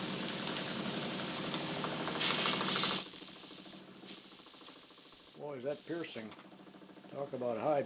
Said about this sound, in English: Toot the whistle, Jordan